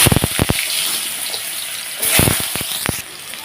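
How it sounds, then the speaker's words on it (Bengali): Chopped potatoes hit a hot pan and fry in a broad, hissing sizzle, with sharp crackling bursts near the start and again midway before the sound settles into a steadier hiss. "আলুটাকে একটু ভালোভাবে ভেজে নেব"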